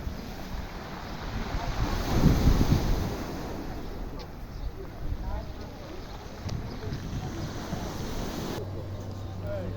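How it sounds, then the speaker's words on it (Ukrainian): Stormy sea waves surge and break on the shore beside the promenade in Bar, Montenegro, after rain: a continuous, loud roar of surf with a heavier swell near the start, mixed with steady wind buffeting the microphone. "Хвилі."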